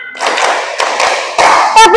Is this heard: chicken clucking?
no